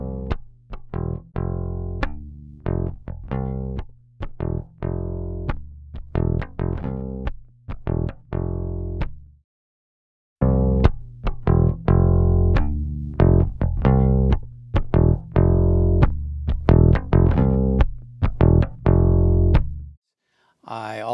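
A processed musical track with a gritty, harmonically distorted tone plays in rhythmic bursts, pausing briefly midway before resuming.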